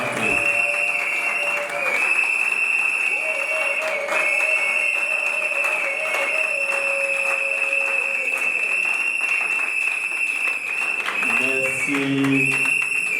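Audience applauding at a civil wedding ceremony in Congo, a steady crowd clapping mixed with cheering and a loud continuous high whistle-like tone running throughout, with voices and shouts near the end.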